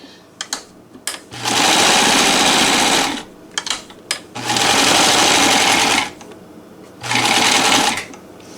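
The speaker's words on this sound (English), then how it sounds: "I have these two little pieces of denim right here. I'll start with this. Looks like I have it on a zigzag." A NELCO L 400 sewing machine runs a zigzag stitch through two small pieces of denim in three loud bursts of rapid mechanical whirring, with clicks and handling noises in the pauses between.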